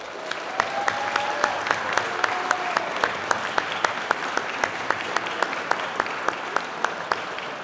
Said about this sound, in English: Please join me in applauding our Air Force's newest leaders